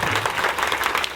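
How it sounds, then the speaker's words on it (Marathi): The audience at a village kirtan gathering breaks into a brief, loud burst of clapping, dense and close, with a faint voice or hum beneath it. "यांच्यासाठी शेवटचे जोरदार टाळी होऊन जाऊ दे."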